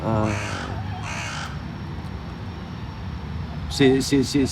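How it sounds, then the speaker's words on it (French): A crow caws outdoors, two harsh calls early on and a quick run of three or four caws near the end, heard under someone speaking close by. "Là, comme je parle, il y a un corbeau ou je ne sais quel oiseau qui crie."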